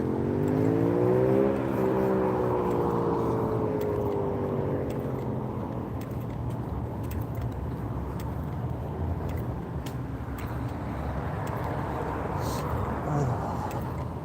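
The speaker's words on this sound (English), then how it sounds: "A lot of cars out and about today." Cars pass along a town street on a Friday afternoon, one revving loudly up close and then fading, followed by a continuous traffic rumble and whir in the background.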